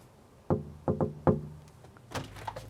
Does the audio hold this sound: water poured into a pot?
no